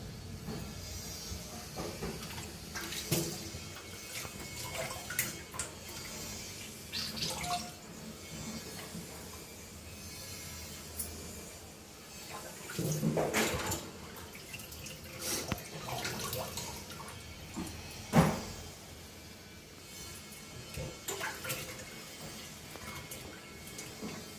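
Boneless chicken pieces washed by hand in water, with soft sloshing, swishing and dripping over a steady low hiss, plus a few louder splashes and clatters, quiet and close with no speech.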